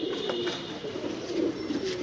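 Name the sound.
pigeons cooing in a loft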